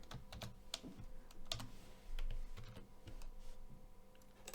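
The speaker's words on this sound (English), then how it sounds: "Let's type something else." Quiet, steady typing on a computer keyboard, with irregular clacking keystrokes and a few louder taps heard up close.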